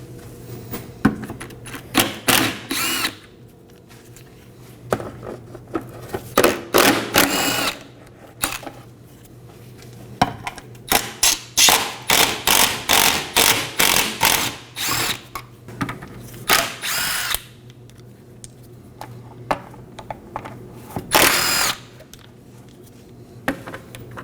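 A power tool spins out the 10mm fasteners holding a plastic cover on a 2018-2024 Chevrolet Equinox 1.5L, loud close-up bursts of whirring in short runs and a rapid rattling series, with quiet pauses between.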